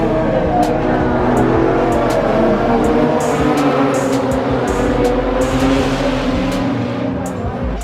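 Race cars at a speedway in Lismore, Australia, roar steadily and loudly throughout, their engines droning and surging as they lap, with faint crowd noise and scattered sharp clicks over the continuous rumble.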